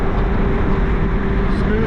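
Steady engine drone from a 2005 Porsche 911 Carrera 4S Cabriolet with the factory sport exhaust set loud, heard from inside the car while driving, a continuous low rumble with a faint rising tone and no talk.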